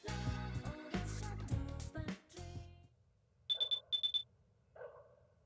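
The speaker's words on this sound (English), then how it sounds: "Beep, beep, beep, beep, beep, beep." Two quick bursts of repeated high electronic beeps in the video game Persona 4, four short tones each, ringing out alone after some game music fades and followed by a soft lower chime.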